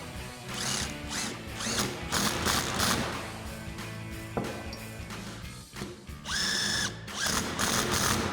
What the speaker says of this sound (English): And then we'll grab our 8mm Allen socket to tighten those down.